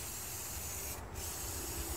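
A spray gun applies paint to the aluminum body of a bus, giving a continuous broad hiss and rush of air that briefly cuts off in the middle and then resumes.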